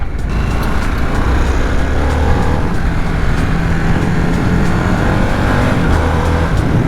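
A 2022 Harley-Davidson Sportster S accelerates hard on a damp road, its engine a loud, continuous, close roar mixed with heavy wind rush that holds steady throughout.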